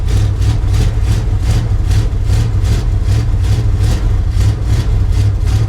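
An old truck engine idles loud and close after a sub-zero cold start, chugging in an even, rapid pulsing rhythm with a deep low rumble.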